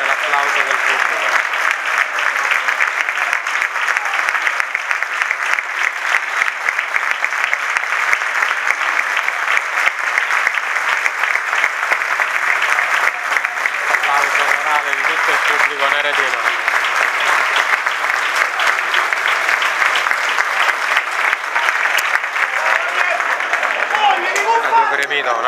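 Sustained crowd applause fills the stands at a football match between Nardò and Altamura, a continuous dense patter of many hands holding steady and loud for the whole stretch.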